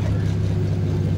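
A Fox body Mustang's 351 Windsor, built to 630 rear-wheel horsepower, roars with a deep, steady engine drone during a short pull, loud and close, with voices talking under it.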